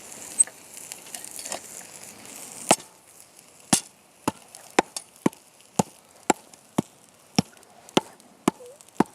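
Bloomery iron hammered into solid steel at a hearth furnace: a long series of sharp, ringing hammer blows, irregular at first, then a steady rhythm about twice a second, close and loud, with no talk.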